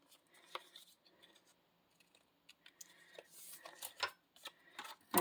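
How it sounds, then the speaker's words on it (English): Scissors snip off extra paper from a handmade festive tag, a series of sharp close clicks and crisp cuts that grow denser toward the end, with no talk. "And then I'm going to take my scissors and just cut that extra off."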